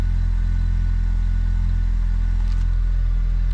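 A Honda Civic engine idling after a remote start, a steady, loud low rumble that holds perfectly even throughout, with no voices over it.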